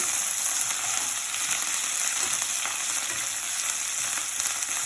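Fresh mint and coriander leaves fry in a pan for a pickle, giving a dense, steady sizzle with faint stirring, close and unbroken, with no talking.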